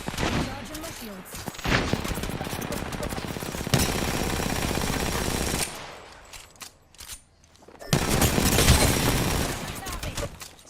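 Gunfire in Apex Legends, loud bursts of automatic fire and cracking shots that fade into a quieter gap and then surge back, with speech over parts of it.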